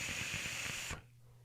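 A vape coil on a Juggernaut Mini single-coil build hisses steadily with faint crackling while firing, then cuts off sharply, leaving a quiet hum.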